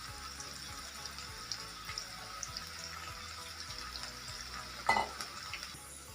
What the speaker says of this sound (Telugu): వీటిని ఇలా బాగా ఫ్రై చేసుకోవాలి. మంచి క్రిస్పీ టెక్స్చర్ వచ్చేంత వరకు.